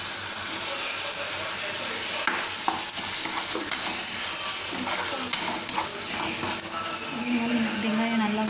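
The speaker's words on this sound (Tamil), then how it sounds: "வெங்காயம் நல்லா வதங்கணும்." Onions fry with ginger garlic paste in a pan for an egg thokku, giving a steady sizzle broken by scattered clinks of a spoon stirring against the pan throughout.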